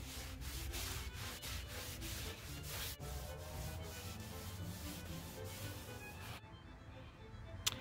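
Cloth rubbing wood stain into the grooves of a wooden pirate ship model, a steady close scrubbing swish with rhythmic strokes that stops near the end.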